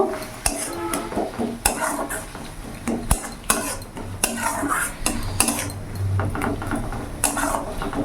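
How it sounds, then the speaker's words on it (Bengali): A metal spoon scrapes and clinks around a pan or bowl, mixing a blend of coriander powder, a little chili powder and salt for an egg poach curry, in steady irregular strokes at close range with no talking. "ভালো করে মিশিয়ে নেব।"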